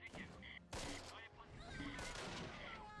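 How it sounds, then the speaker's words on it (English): In the WWII strategy game Close Combat: Wacht Am Rhein, mortar rounds and gunfire crackle in dense, distant bursts over a quiet, muffled battlefield backdrop. "The mortars are hitting home pretty good."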